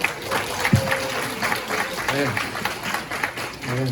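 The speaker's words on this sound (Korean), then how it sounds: "박수 쳐주셔서 감사합니다" Audience applause at a church new-year retreat, a steady wash of clapping from a gathered crowd with a voice breaking through over it now and then.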